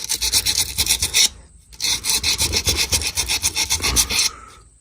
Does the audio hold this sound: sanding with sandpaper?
yes